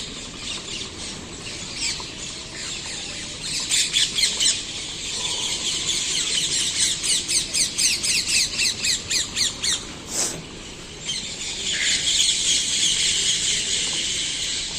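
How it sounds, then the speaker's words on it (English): Many birds call and squawk in trees in the early morning, a dense chorus of overlapping chirps and repeated shrill calls, fairly close and continuous throughout. "There are lots of birds in the trees because it is early morning"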